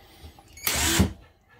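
A Patriot BR 181 Li cordless drill-screwdriver drives a screw in one short, loud whirring burst of about half a second, up close, with no talking.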